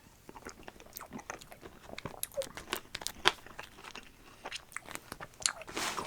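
Close-up crunchy bites and chewing of a Dairy Queen salted caramel toffee crunch dessert, with irregular crackles, crinkles and soft mouth sounds, quiet and intimate.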